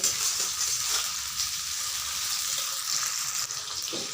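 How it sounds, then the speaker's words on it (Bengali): Tomato pieces frying in a pan give a steady, moderate hiss of sizzling oil throughout, with a few soft stirring knocks underneath. "টমেটোগুলোকে একটু ভাজা করে নেব,"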